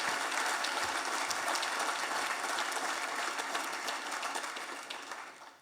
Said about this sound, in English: So big round of applause for Terry.